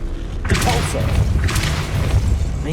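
Two heavy Repulsor spell blasts in Hogwarts Legacy, each a sudden booming whoosh with a thudding impact, spaced about a second apart over a low ambient bed.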